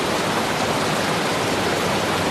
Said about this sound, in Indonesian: Di sebuah lokasi air terjun yang berada di tengah hutan